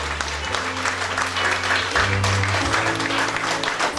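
Church congregation applauding and cheering, sustained loud clapping from a crowd with raised voices and exclamations throughout, with a low sustained music tone underneath.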